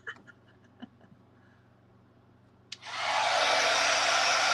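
A heat tool blasts on abruptly after faint quiet sounds, drying embossing powder on a craft project with a loud, steady, close whooshing roar that continues to the end.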